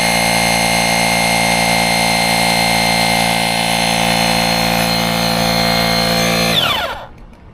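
An EVERGEAR portable air compressor runs steadily while inflating a ball, a loud, even motor whine with a strong tonal hum that holds constant, then winds down and cuts off near the end.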